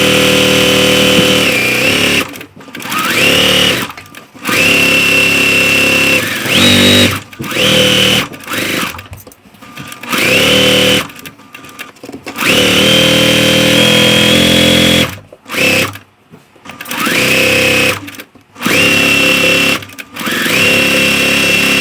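Sewing machine stitching quilt rows joined with sashing, loud close whirring runs in repeated bursts separated by short stops as the fabric is repositioned.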